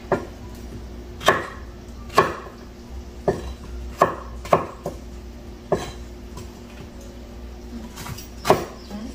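A kitchen knife chops through squash vegetable stems on a cutting board, a series of irregular sharp thuds spaced a second or so apart, close and clear over quiet room noise.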